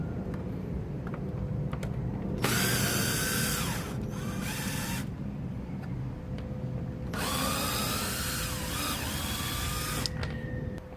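Screws being driven out of the air filter compartment on a Vauxhall Astra H with a power screwdriver, two loud whirring bursts of a few seconds each, close up, with a quiet gap between them and no talk.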